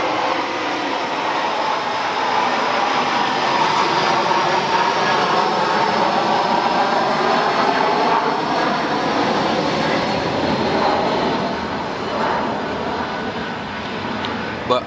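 Steady broadband roar of a plane passing overhead, holding at an even loudness for about fifteen seconds with no talking over it.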